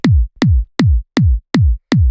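A very short layered kick drum, treated with distortion, saturation and a high-pass filter, hits six times in an even rhythm, each punchy, clicky thump followed by a quickly decaying low boom, loud and dry with no voices.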